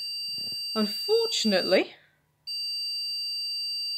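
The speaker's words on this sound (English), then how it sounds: "those beeps that you're hearing" Computer motherboard sounding error beeps for faulty RAM, a loud steady high-pitched electronic tone that cuts off, then resumes and holds, after someone speaks briefly.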